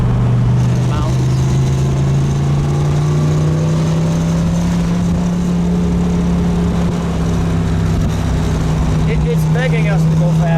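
A 1962 Chevrolet Corvette roadster with a 327 cubic-inch, 340 hp V8 and four-speed drives along a mountain road, its engine holding a steady, droning note that rises slightly in pitch under continuous road and wind noise.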